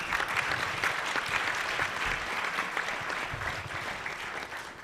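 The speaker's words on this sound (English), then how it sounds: "Please give them a round of applause." Sustained applause from a luncheon audience at the National Press Club, steady dense clapping from many hands throughout, close and fairly loud, fading slightly at the end, with no talk.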